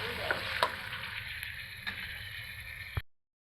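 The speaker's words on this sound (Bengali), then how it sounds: "পেঁয়াজটা আমি ভেজে নিচ্ছি।" Chopped onion and minced garlic frying in a pan for a mixed vegetable dish, a steady close sizzle with a few sharp stirring clicks and scrapes, no talking.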